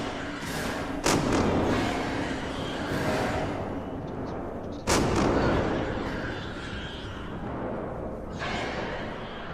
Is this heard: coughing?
no